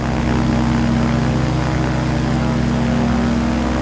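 A Kitfox light aircraft's propeller engine drones loudly and steadily during a touch and go in Flight Simulator, a close continuous buzzing hum with a strong low tone and no talk.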